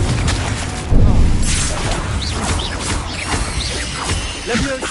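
Explosive blasting spells from a wizard video game burst out in a busy mix, with a heavy crash near the one-second mark followed by whooshes and further impacts over a dense, noisy game soundtrack.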